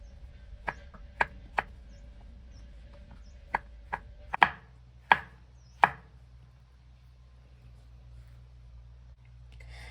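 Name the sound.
knife chopping mushrooms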